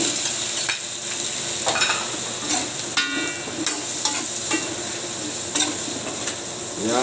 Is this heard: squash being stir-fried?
yes